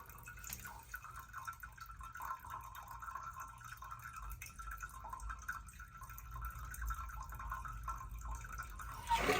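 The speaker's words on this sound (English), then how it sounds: "the fill valve will lose water and then respond by filling it back" A toilet fill valve trickles and hisses faintly as it refills the tank, a soft steady run of water with light dripping.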